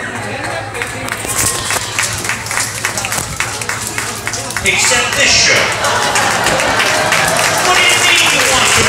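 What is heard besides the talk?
audience applause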